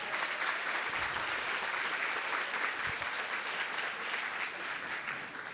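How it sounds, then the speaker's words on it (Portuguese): Steady, dense applause from an audience at an evening talk about native vegetation and forests, sustained and even at moderate distance for several seconds. "Palmas para os dois,"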